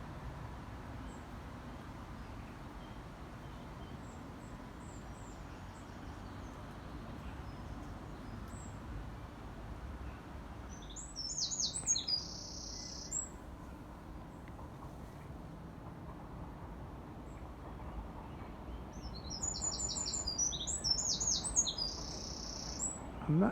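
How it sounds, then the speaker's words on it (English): Male wren singing loudly in a nature reserve, two bursts of fast, high trilling song rising over a constant low rumble of wind and distant noise, heard from moderate distance. "And that song is a wren."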